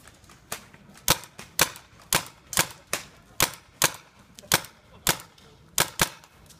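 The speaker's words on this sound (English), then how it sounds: "It is a paintball gun." A paintball gun fires in Chiba, Japan, about a dozen sharp, close cracks in a steady rhythm roughly half a second apart over faint background noise.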